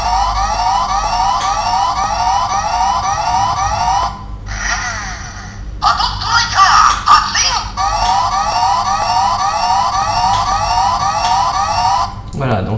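A toy Patstriker vehicle from Gokaiger blares looping electronic siren wails, loud and close, broken by a short burst of other electronic effects before the siren resumes.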